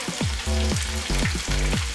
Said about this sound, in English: It's actually not frying, it's actually steaming when you fry at a proper temperature, so it's just steam.